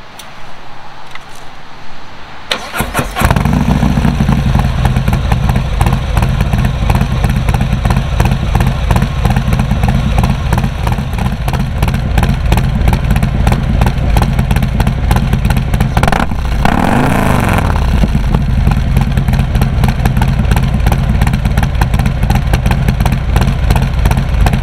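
A Harley-Davidson motorcycle engine cranks after a short quiet moment, then catches and settles into a loud, close, lumpy idle with one brief rev midway.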